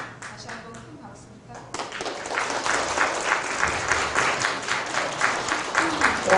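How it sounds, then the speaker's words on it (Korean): Applause from an audience after a staged literary reading; a quieter stretch with a voice gives way to a sudden, full burst of clapping that continues steadily to the end. "다시 한번 큰 박수"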